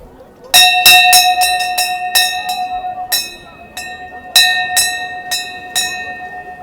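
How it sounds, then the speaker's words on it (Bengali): A bright temple bell struck repeatedly in quick, uneven strokes at Gangasagar, each ring clear and sustained, ringing out close by over faint background murmur. "ঘন্টাটা আমি একবার বাজাবো"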